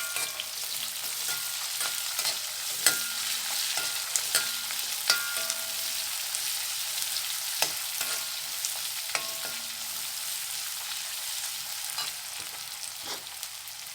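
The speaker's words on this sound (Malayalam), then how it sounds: "സവോള ഒന്ന് വഴന്ന് വന്നിട്ടുണ്ട് കേട്ടോ." Onions and garlic frying in a pan for a homestyle coconut-piece curry: a soft, steady crackling sizzle broken by frequent light clicks and stirring taps, with no voices.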